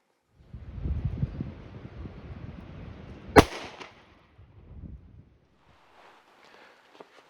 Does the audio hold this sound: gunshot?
yes